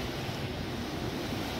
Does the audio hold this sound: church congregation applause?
no